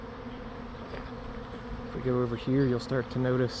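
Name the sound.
honeybee swarm buzzing near swarm trap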